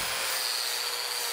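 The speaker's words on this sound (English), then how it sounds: "So I want to use the grinder and profile it like this." An angle grinder profiling a steel wheel to fit the hand, giving a loud, steady, hissing whine that continues unbroken through the whole short stretch.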